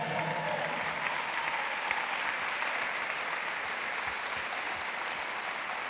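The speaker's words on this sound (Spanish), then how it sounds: "Dale un fuerte aplauso al Señor" A church congregation claps loudly and steadily, a dense, sustained wash of applause filling the room at even volume throughout.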